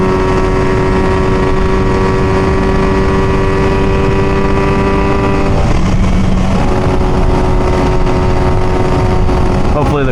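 A 58-year-old two-stroke motorcycle engine runs steadily up close, a loud buzzing drone with a slight change in pitch midway.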